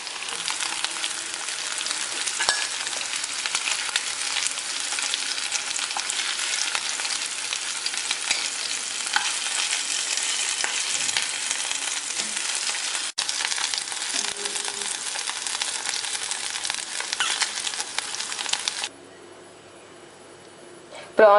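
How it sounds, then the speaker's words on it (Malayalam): Prawns deep-frying in oil for a Kerala-style prawn biryani, a dense continuous close sizzle that runs steadily for about nineteen seconds before dropping away near the end. "ഇനി ഇത് കുറച്ച് നേരം കൂടെ ഇങ്ങനെ ഇരുന്ന് ഫ്രൈ ആവട്ടെ"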